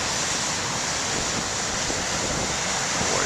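Ocean surf breaking continuously at a lighthouse beach, a steady loud wash of waves with wind rumble, close and without speech.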